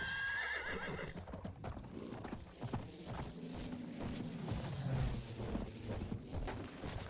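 A horse in the video game Battlefield 1 gallops with rapid clip-clop hoofbeats and lets out neighs, loud and close amid rumbling battlefield noise.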